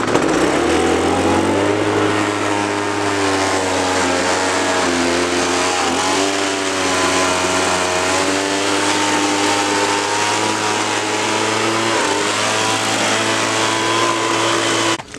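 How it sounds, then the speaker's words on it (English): A leaf blower roars steadily while drying a freshly washed Triumph Bonneville America motorcycle, a loud, continuous whine and rush of air held close for the whole stretch, dipping briefly near the end, with no talk. "Now we're going to dry it off with a leaf blower."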